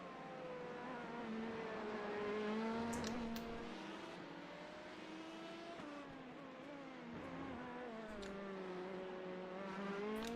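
LMP2 prototype race cars pitting during a 24-hour Le Mans event in a sim racing game, engines droning and shifting pitch continuously, with loud revving rising and falling and cars passing close by.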